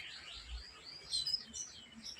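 Pet canaries in a home breeding setup give faint, scattered high chirps and short tweets, quiet and somewhat distant, with no talking.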